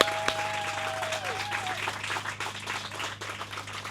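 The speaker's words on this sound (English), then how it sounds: "let's give Cynda a really big round of applause" A crowd at a Lee's Summit mayoral campaign kickoff claps for the candidate, a brief, even burst of applause over a low steady hum, with a faint whistle-like tone rising and falling early on.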